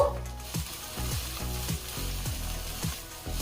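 Ridge gourd with sugar sizzles steadily in a pan, with repeated scraping stirs of a spatula at a regular rhythm over the continuous frying hiss, close and moderately loud, no voices.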